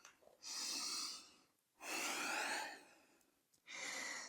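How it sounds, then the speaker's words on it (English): Three slow, deep breaths close to the microphone, each a long airy rush separated by short pauses. "Taking 3 nice deep breaths here"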